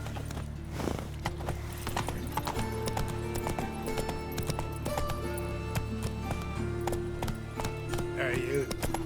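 Roach the horse gallops in The Witcher 3, steady clip-clop hoofbeats running throughout over a constant ambient game score, with occasional spoken lines and a brief whinny-like flourish near the end.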